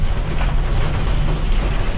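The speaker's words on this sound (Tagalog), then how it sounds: "Lakas to, malakas tong ulan na to." Heavy rain pours down steadily at a housing construction site, a loud, dense, continuous roar with low rumble and no gaps.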